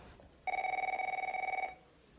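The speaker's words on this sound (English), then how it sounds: "Phone. It's a package deal." An office telephone bell rings in one continuous burst of rapid, even trills lasting just over a second, loud and close against a quiet room with no talking.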